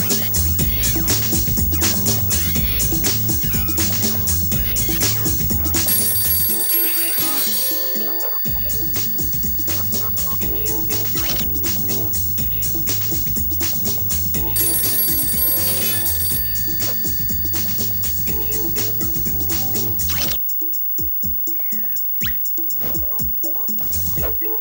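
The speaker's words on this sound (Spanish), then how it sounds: "suena el teléfono, en este caso en otra habitación" A telephone bell rings repeatedly in another room, its ringing sitting under loud, continuous music that dominates throughout.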